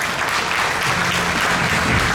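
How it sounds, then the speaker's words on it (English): Brief burst of dense audience applause at a school tech event, steady clapping from a crowd heard up close without pause. "Let's give a big round of applause to Mr. Kabil"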